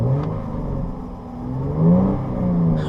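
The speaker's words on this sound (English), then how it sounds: "We also got the little exhaust button here, which opens up the exhaust and makes it even louder" A 2017 Jaguar F-Type V6 coupe with the active exhaust button opened revs while parked, its engine note rising and falling in two close, loud swells over a steady rumble, with no talk.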